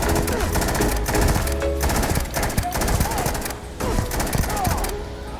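An Old Earth Assault Rifle in Starfield fired in short, pulsed bursts, a rapid string of loud, close gunshots broken by brief pauses, with faint talk underneath.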